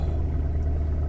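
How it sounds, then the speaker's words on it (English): A Mercedes C63 AMG 507 estate's engine fires up from cold, giving a loud, steady low rumble that fills the brief moment, close by with the boot open. "everybody likes a cold start"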